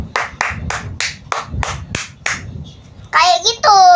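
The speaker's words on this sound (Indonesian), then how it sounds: "ada orang yang tepuk tangan di jalan" A child claps their hands about eight times in a steady rhythm, copying the way people clap in the street. The claps are sharp and close, and a voice speaks right after them.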